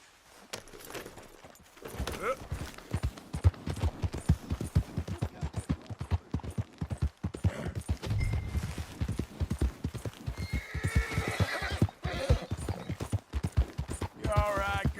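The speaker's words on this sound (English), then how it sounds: "What's wrong with this horse?" Horse hooves clip-clopping at a steady walk, with a few whinnies, in Red Dead Redemption 2. Moderately loud and close, with faint voices and ambient game sound around them.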